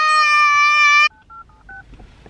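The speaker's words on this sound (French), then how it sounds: "merci le téléphone musical en anglais là que ma mère lui a offert" A child's toy musical telephone plays a loud, steady electronic chord that cuts off abruptly, then a few short two-tone beeps follow against quiet room noise.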